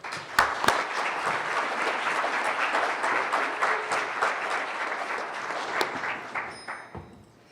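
Audience applause at a civic forum welcoming a moderator and county auditor candidates, a sustained even roar of clapping with a few sharp nearby claps, fading out at the end.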